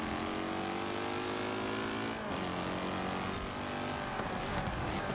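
Racing car engines in the video game Forza Horizon 4 roar continuously through tight corners, loud and steady with a gear-change dip midway and no talk over them.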